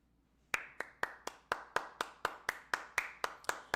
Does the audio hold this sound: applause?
yes